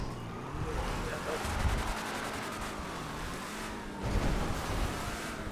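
Blustery wind roars across an open hillside in Grand Theft Auto V, a steady broadband rush that swells in gusts, with a vehicle engine rumbling faintly beneath and a person talking over it.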